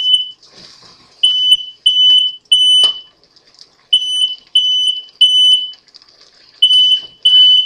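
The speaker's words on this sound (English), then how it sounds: "If it gets too hot in here, that thing goes off." Kitchen smoke alarm set off by cooking heat while egusi is being cooked, blaring in loud, piercing beeps of about half a second each, repeated in quick groups with brief gaps, no talking over it.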